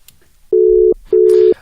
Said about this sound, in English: we're getting Ntauling back on the line, as you heard. Phone line's ringing.